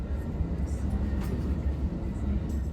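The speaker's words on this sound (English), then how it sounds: "we pull over to let the northbound Texas Eagle pass us" An Amtrak Texas Eagle passenger train passes as a steady low rumble with faint higher rattling, a broad continuous roar heard from a nearby stopped train.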